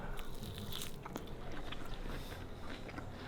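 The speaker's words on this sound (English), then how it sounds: "With the crunch of everything." A crunchy bite into homecooked Filipino food with cucumber and onion, close and quiet, with crisp crackling chews and no talk.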